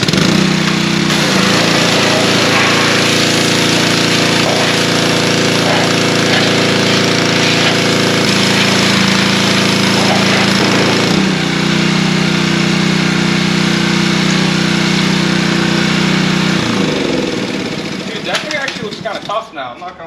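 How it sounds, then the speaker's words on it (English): Small engine-driven pressure washer running steadily and loud for most of the stretch, its motor drone shifting pitch midway, then cutting out near the end, beside a 1965 Honda Dream motorcycle being cleaned. "let me fire up the pressure washer again real quick."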